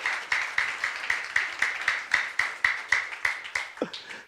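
A church congregation claps in unison during a sermon, about fifteen crisp claps in a steady quick rhythm, then a brief voice right at the end.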